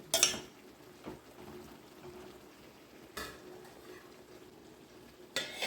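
Raw banana mixture being stirred in a pan for rotti, with soft scraping and faint sizzling close by, plus a few sharper utensil knocks against the pan; no talking.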